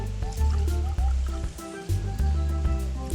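Grapefruit juice drink being poured into a container in a kitchen, a loud gurgling liquid splash that briefly pauses and resumes, with background music playing.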